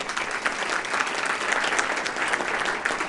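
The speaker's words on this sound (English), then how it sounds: "they deserve a great round of applause and thanks" An audience at a Columbus Metropolitan Club forum breaking into steady, even applause, a dense wash of clapping at moderate volume with no talk.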